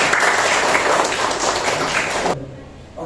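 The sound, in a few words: audience applause for a student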